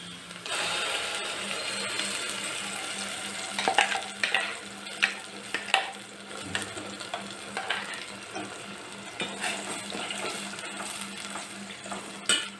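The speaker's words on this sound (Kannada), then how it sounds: "ಈಗ ರುಬ್ಕೊಂಡಿರೋ ಮಸಾಲೆ ಹಾಕ್ತಾಯಿದ್ದೀನಿ" Steady frying hiss from a pan, broken by repeated scraping and clinking of a spoon stirring thick ground masala paste for egg curry, with no talking.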